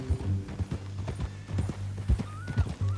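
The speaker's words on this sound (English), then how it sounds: "That new horse?" Horse hooves clip-clop at a steady walking pace in Red Dead Redemption 2, close and clear, with a short whinny partway through and faint ambient game sound beneath.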